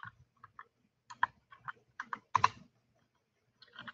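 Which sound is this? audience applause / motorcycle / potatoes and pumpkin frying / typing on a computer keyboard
typing on a computer keyboard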